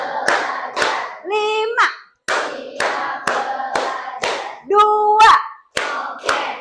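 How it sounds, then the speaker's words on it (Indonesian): A grade 10 class claps together in sharp, rhythmic bursts in a classroom. The claps come in quick volleys separated by short chanted voices counting along. "Tepuk tangan untuk kelas 10 KL2"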